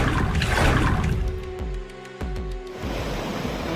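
Floodwater from heavy rain rushes through a village in Maldevta, Dehradun, a steady, loud broadband roar of churning water with a brief dip partway through, no voices.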